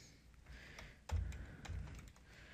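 Quiet typing on a computer keyboard during a game-programming session, a light uneven run of key taps with a few firmer strikes, close but soft.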